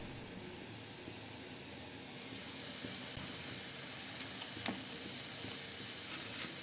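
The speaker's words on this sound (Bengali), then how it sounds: "ঝোলটা খুব ভালো মতো ফুটে উঠেছে।" Broth for fulurir tok, a sour curry with fried fulluri, bubbles steadily in a pot, a soft continuous simmering hiss with one brief clink near the end.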